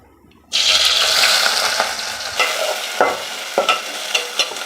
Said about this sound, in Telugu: ఇవి బాగా ఎర్రగా వేయించుకోవాలి ఫ్రైడ్ ఆనియన్ లాగా